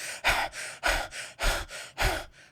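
Someone breathes hard and sharply to show anger, five forceful rhythmic inhale-exhale bursts close to the microphone, each about half a second apart.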